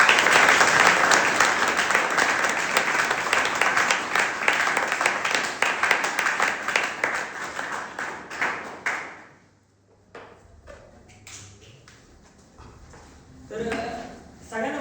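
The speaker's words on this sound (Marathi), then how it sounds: "तर एकदा जोरदार टाळ्या वाजवून आपण" An audience applauds loudly and steadily for about nine seconds at a celebration event, then the clapping stops abruptly, leaving a few scattered claps and taps before a short burst returns near the end.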